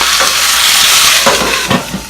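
Loud, steady frying sizzle of garlic, tomatoes and onion cooking down in a pan for salsa, close up, with a few soft stirring scrapes toward the end.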